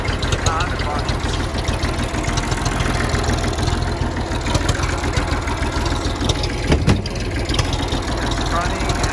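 A vintage tractor engine runs loud and steady after a cold start, its rough, chugging idle filling the whole stretch up close, with a voice faintly under it.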